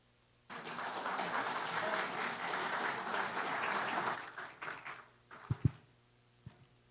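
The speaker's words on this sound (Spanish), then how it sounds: "Ustedes lo reciben con un fuerte aplauso." An audience at a geodesy lecture applauds to welcome a speaker from Venezuela, a steady dense clapping for about four seconds before it thins into scattered claps and faint room noise.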